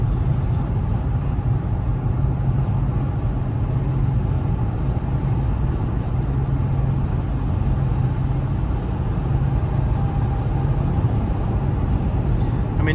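Steady broadband road noise inside a car cruising at about 70 mph on a freeway beside a wall, swelling slightly as a big truck is passed, with a constant low rumble and no talking.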